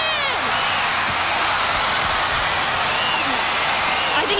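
A large crowd at a 1999 USA vs World Stars soccer match in San Jose, a broad continuous roar of cheering that stays loud and steady throughout.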